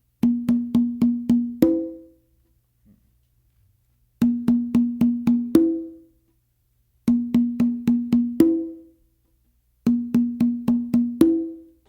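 Conga drums play a weak tumbao exercise: four groups of five quick open tones followed by a lower accented stroke, each phrase ringing out before a short pause, close and clear with no talking.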